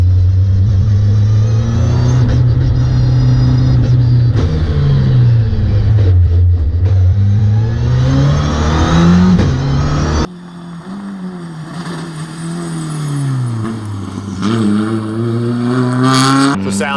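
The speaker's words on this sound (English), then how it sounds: "show us that they can control the car as it slides around" Race car on a track day circuit, engine loud and near, revving and accelerating with shifting pitch as the car slides through turns, then a cut to another pass with a higher, strained engine note.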